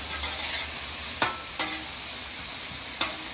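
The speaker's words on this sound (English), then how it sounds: "And that was the butter, garlic, and Italian just seasoning." Butter, garlic and Italian seasoning sizzle and fry steadily in a cast iron pan, a close, continuous hiss punctuated by a few sharp clinks of a utensil stirring.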